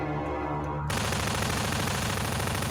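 A weapon fires in a video game: a sudden loud burst of rapid fire cuts in after a short quiet hum and carries on without a break to the end.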